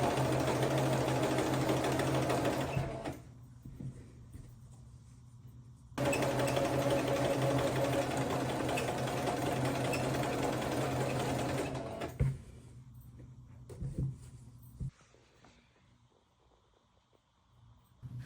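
A sewing machine stitching fabric in two long continuous runs, a loud, steady rapid whir close by, separated by short quiet pauses with light handling noises and ending in near silence.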